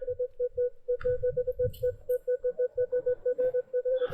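A Minelab Equinox 900 metal detector beeps in a quick, steady string of short, clipped tones while it sweeps a forest floor. The beeps sound close and clear over faint rustling and footsteps.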